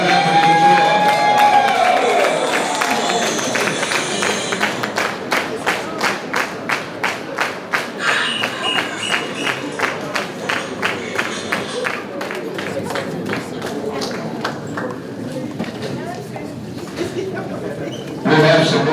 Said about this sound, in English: Come on, we can continue to clap and enjoy.